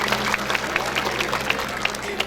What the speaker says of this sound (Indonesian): Tepuk tangan untuk anak ini ya.